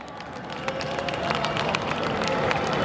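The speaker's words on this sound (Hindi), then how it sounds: "जोरदार तालियां होनी चाहिए।" A large crowd at an evening poetry gathering on Gandhi Maidan breaks into applause, a dense, continuous wash of clapping and murmuring that builds slightly and holds steady, with a voice faintly mixed in.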